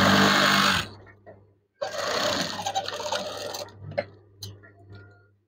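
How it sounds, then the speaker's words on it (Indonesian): A sewing machine stitches the folded top hem of an eyelet curtain in two close, loud runs of rapid whirring. Soft fabric handling and clicks follow. "Setelah itu jahit."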